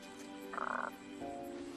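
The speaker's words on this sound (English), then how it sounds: "A frog knocks the wind out of him." Frog croaking in the King's Quest video game, a short rattling croak burst followed by a lower sustained tone, over a faint musical game background.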